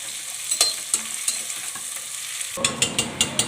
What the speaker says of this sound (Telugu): అండ్ ఆనియన్స్ కూడా వేసుకుంటున్నాము. ఇది మనకి కొంచెం బాగా ఫ్రై అవ్వాలన్నమాట.